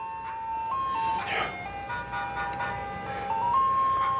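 An ice cream truck plays its tinkling melodic jingle through a loudspeaker outdoors, moderately loud and continuous over background noise.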